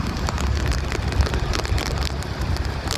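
Steady, dense rain hiss fills the whole stretch, with scattered drops pattering on a surface and a low rumble underneath, fairly loud and close.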